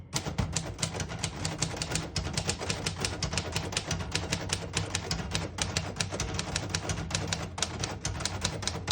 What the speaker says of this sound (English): Excellent condition typewriter all around. It types excellent and it looks excellent.